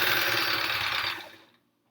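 A sewing machine runs steadily while stitching quilt pieces together for a Triangle Tango quilt, a dense mechanical whir that holds for about a second and then winds down to silence.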